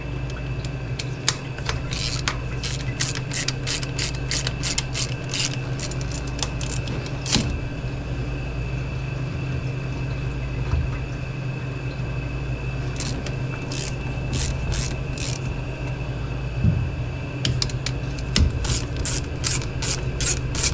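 Ratchet wrench loosening the thermostat on a 1950s Chevrolet 210: rapid runs of sharp, close clicking in two long bursts, separated by a pause, over a low steady background hum.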